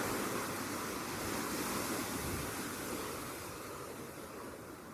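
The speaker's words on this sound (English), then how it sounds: "Listen to the sigh of wind and leaf." Wind sweeping through the thick foliage of tall alders beside a mature ash in summer, a steady broadband rushing and rustling that swells slightly and then eases, with no voices.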